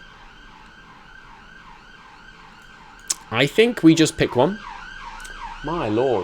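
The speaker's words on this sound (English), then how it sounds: "Sorry about the siren." Emergency vehicle siren wailing outside, a rising and falling tone running faintly in the background, briefly drowned by close speech before the siren sweeps return louder near the end.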